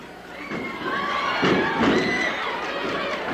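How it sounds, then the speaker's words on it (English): Crowd at a 1962 professional wrestling match between Pat O'Connor and Lorenzo Parente cheers and shouts in rising bursts, loud excited yelling with a few thuds from the ring. "Crowd loves this one."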